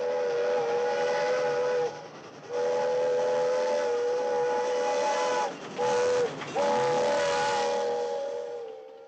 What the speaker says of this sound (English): The 97 train is in